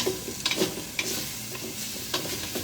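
A mixture for steak with zucchini and peppers is stirred in a pan on a lit burner, with a steady sizzle under scattered scrapes and knocks of the utensil. No one talks.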